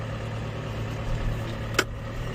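A small tractor engine runs steadily at a low idle-like hum while loading feed, a continuous mid-level drone with a brief sharp clank near the end.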